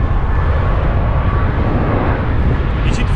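Airplanes pass low overhead close to an airfield, producing a steady, loud, broadband engine roar that fills the whole stretch without letting up, with a voice heard faintly under the noise.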